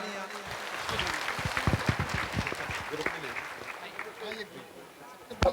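Applause at an eye camp in Berasia, a crowd clapping steadily for several seconds with a few louder individual claps standing out and voices mixed in.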